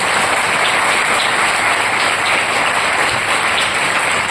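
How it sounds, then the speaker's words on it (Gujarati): An audience at a religious satsang gathering claps loudly, a continuous dense wash of applause that holds at an even level from start to finish. "તાળી બજાવો"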